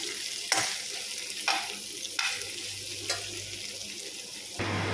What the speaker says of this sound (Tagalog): Iprito ko muna yung ating sibuyas na pangpatong ko mamaya.